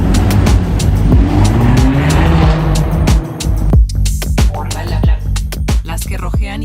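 A Mercedes C63s drives through city streets, its engine roaring loud and close, with sharp bursts and clatter breaking through the steady low drone in the second half.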